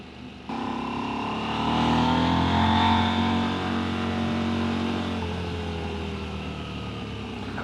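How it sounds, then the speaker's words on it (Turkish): A KTM 890 Adventure motorcycle with an aftermarket exhaust riding along, its engine tone rising and steady with crackling on a closed throttle, loud and continuous without talk. "Özellikle gazı kapatınca patırı çatırı, çatırı patırı"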